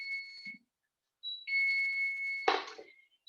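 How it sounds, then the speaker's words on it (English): A kitchen oven timer going off, steady high electronic beeps in sustained tones with short gaps, one louder burst partway through, fairly close and without talk. "my timer is going off from my oven"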